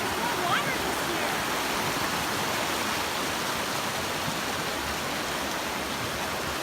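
Creek water flows steadily at Bonita Falls in a drought year, a dense, continuous rushing wash with no pauses, close and even throughout.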